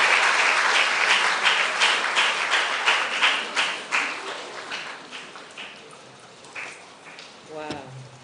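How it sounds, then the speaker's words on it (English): An audience at a 2024 WiSTEM camp stage event applauds as a speaker walks on; loud, dense clapping gradually thins into scattered separate claps, then a voice briefly speaks near the end. "Keep clapping till she comes on stage."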